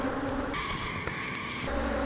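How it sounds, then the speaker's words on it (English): A steady, dense buzzing of many bees flying close by, continuous and fairly loud throughout with no voices. "just to cut down on bees flying around and also help with any robbing"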